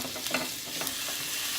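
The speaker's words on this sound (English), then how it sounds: "I'm gonna add just a couple of tablespoons of vegetable oil. And I'm going to add my ground beef." Ground beef frying in vegetable oil in a pan on a stovetop gives a steady, close crackling sizzle, with a few brief scraping stirs near the start.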